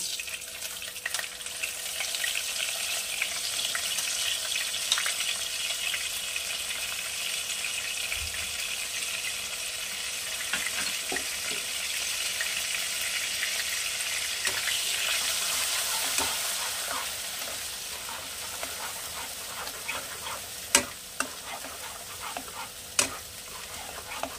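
Continuous sizzling of onion paste frying in a hot pan for Bengali boal fish curry, with occasional scraping stirs and a few sharp clinks toward the end; no talking.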